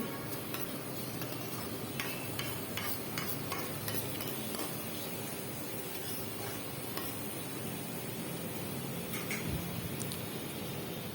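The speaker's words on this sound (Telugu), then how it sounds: "క్యారెట్ అనేది పచ్చి స్మెల్ వెళ్ళే వరకు మనం మంచిగా సిమ్లో స్టవ్ పెట్టేసుకొని ఫ్రై చేసుకోవాలి" Grated carrot frying gently in a pan over a low flame, a steady soft sizzle with faint crackles and occasional stirring ticks, continuous and close.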